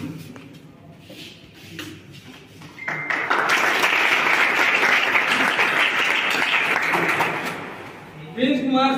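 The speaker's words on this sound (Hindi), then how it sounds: "ताली बजा दीजिए।" An audience at an ITI convocation ceremony bursts into applause after a quiet start with a voice, the clapping swelling and holding for several seconds before a voice returns over it.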